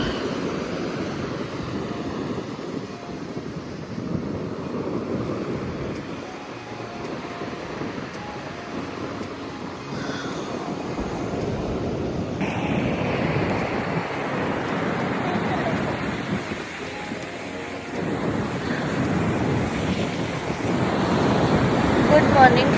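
Sea waves roll and break steadily at Gopalpur beach on a windy, rainy morning, with gusting wind buffeting the microphone throughout; the surf swells louder toward the end, and a voice talks briefly over it.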